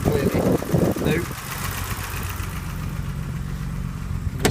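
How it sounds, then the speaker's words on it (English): A 1983 BMW 635CSI engine idles smoothly with a steady, even low hum, heard after a few brief movement noises at the start, with a faint clunk at the end. "you can hear that the engine's ticking over nicely"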